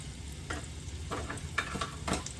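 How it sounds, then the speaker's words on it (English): Garlic and ginger sizzle in hot sesame oil in a wok, a soft continuous frying hiss broken by several brief stirring scrapes, close and fairly quiet. "heat the sesame oil up in a wok or large skillet, add garlic and ginger"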